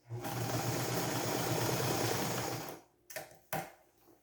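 A sewing machine stitches across a fabric headband with a steady close whirring hum for a few seconds, then stops, followed by two brief clicks.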